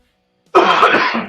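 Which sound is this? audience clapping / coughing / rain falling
coughing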